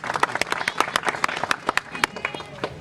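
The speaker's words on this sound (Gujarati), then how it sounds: "એક વાર જોરદાર તાળીઓથી વધાવી" An audience applauds at a political gathering, with many hands clapping in a quick, uneven patter that sounds fairly close and lasts a few seconds, with crowd voices beneath it.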